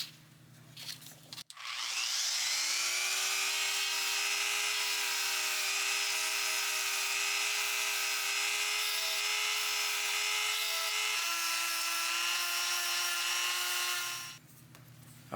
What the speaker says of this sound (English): What I'm going to do is use this sandpaper to take a little bit off the rubber.